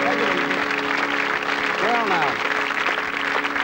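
A studio audience at a 1983 game show applauds steadily throughout, a dense continuous clapping under someone speaking briefly over it.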